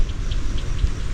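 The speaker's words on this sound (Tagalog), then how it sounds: "Ayun na yung ulan." Steady rain falls in a wet outdoor hiss with soft drop patter, continuous and moderately loud, during the calamansi harvest in the rainy season.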